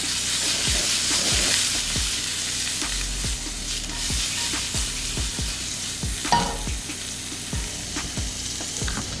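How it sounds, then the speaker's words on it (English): Mushrooms and garlic sizzle steadily in olive oil in a pan with salt and black pepper, with a close, continuous frying hiss and regular scraping stirs throughout. "we're gonna throw our mushrooms, a little bit of olive oil, a little bit of salt, a little bit of black pepper"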